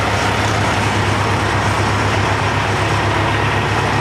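A Peterbilt truck idles in traffic, a loud, steady, low diesel rumble with road noise, continuous and unchanging throughout.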